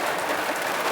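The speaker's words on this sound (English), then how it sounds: "it is pouring down rain" Heavy rain pours down steadily at an outdoor car show, a dense, even hiss with no break and no voices.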